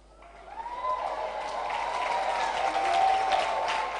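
Audience at a live road show applauding a prize winner, clapping building steadily from a few hands into dense, sustained applause with faint crowd murmur beneath.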